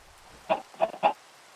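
A chicken clucks on a video game chicken farm, giving three short, close clucks in quick succession over a quiet background.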